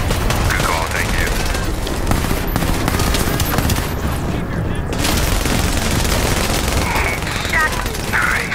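Gunfire and explosions from the video game The Division, dense continuous shooting with bursts and booms throughout, loud, with people talking over the battle.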